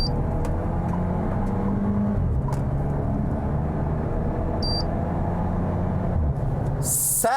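An Abarth Fastback sports SUV accelerates hard from a standstill to 60, its engine drone steady and loud throughout with a slight rise in pitch, heard from inside the cabin.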